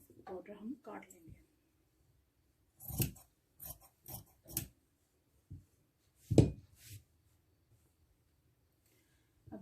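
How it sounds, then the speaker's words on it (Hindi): Scissors cutting a 14-inch fabric border for a kameez, heard as several short, crisp snips in separate bursts against near silence, with some quiet talk at the start. "14 इंच का बॉर्डर हम काट लेंगे"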